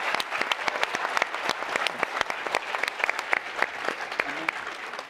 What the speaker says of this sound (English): one more round of applause for Orbit Fab